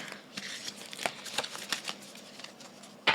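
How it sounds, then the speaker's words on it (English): Large tarot cards are shuffled by hand, giving a close, quiet series of papery riffles and soft flicks, ending in a sharper snap as the deck settles. "they're the biggest damn cards I've ever shuffled"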